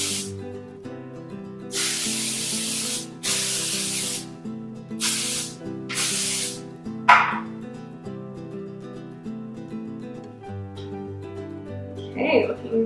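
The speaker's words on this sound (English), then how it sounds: "So I will use my hairspray." Hairspray hissing onto hair in several short bursts, close and loud, over steady background music, with a few faint rustles after.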